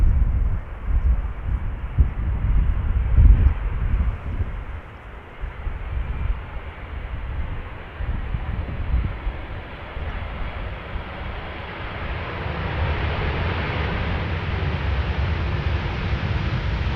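Suparna Boeing 747-400 jet at Amsterdam Schiphol Airport, a broad, rumbling engine roar that holds steady over the whole stretch, swelling slightly toward the end, with no voices.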